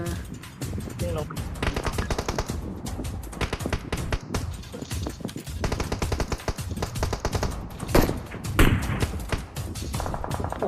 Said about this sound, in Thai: ยิงกันโคตรเท่